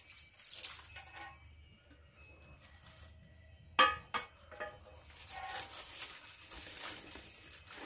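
Remaining water being poured into a chiffon cake batter in a home kitchen, heard as a brief splashing burst with a few quick follow-up splashes, then a soft steady trickle and stirring noise, with no talking.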